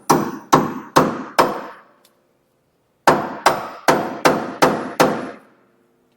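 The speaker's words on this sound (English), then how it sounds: "I'm going to whack on it with this hammer" Sharp hammer strikes on a Chevy 2500 pitman arm ring out in two bursts, four blows then a pause then six more, each hit loud and close with a short ringing decay.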